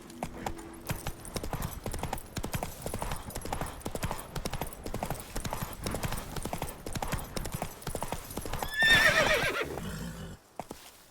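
Roach, a horse in The Witcher 3, gallops with rapid rhythmic clip-clop hoofbeats, then lets out a loud, shrill neigh near the end before the hooves fall quiet.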